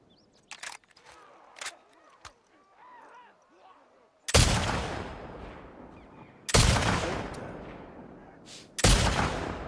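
Rifle shots in The Last of Us Part 2, three loud sharp blasts spaced a couple of seconds apart, each ringing out with a long echoing tail, after quieter rustling and faint movement at the start.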